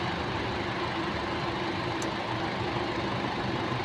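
An Isuzu MU-X engine idles steadily while warming up during a coolant flush, a constant, close, even rumble with no speech over it.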